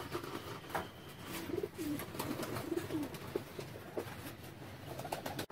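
Pet pigeons, a mix of varieties kept in a loft, coo softly in a series of low, rolling calls spread over several seconds, fairly faint against a steady background hiss.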